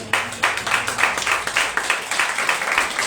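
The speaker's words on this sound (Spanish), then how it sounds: "Denle ese aplauso a Dios entonces." A church congregation claps for God during a Spanish-language sermon, a steady brisk rhythm of many hands at moderate loudness, heard alone without talk.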